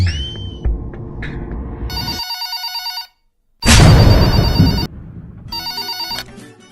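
A telephone rings in three bursts of a bright electronic trill, separated by short pauses, loud and close, with low rumbling noise before the first ring.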